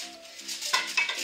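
A brief stir of veal seasoned with couscous spices after potato cooking water is added to the pan, with close scraping and metallic clinks of a utensil over a low hum.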